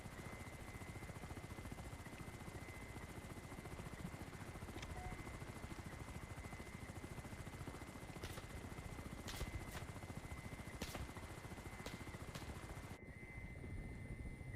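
A helicopter drones far off outdoors, a faint, steady rotor hum that persists throughout with no nearby voices.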